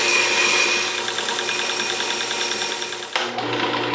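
Grinding and sharpening the broken tip of a cast resin twist drill bit against an abrasive stone or paper, a steady close rasping hiss with a faint repeating pulse, pausing briefly near the end before resuming.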